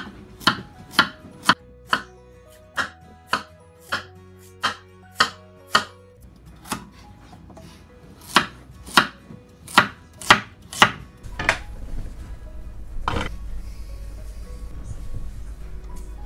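A knife chops peeled carrots into large pieces on a board, giving a steady run of about twenty crisp, evenly spaced thuds close by, followed by a duller rumbling handling noise.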